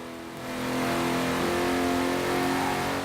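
An E36 revs hard in Forza Horizon 4, its harsh straight-pipe-like tone rising and holding loud and close for a few seconds.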